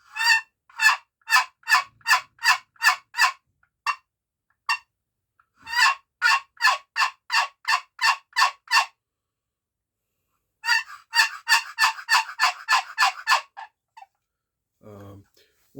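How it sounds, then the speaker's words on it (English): An old Nightingale wooden turkey box call played in quick bursts of sharp, raspy yelps, loud and close, with pauses between runs and a brief low sound at the end. "This is an old Nightingale box call."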